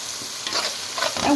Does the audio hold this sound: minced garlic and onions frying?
yes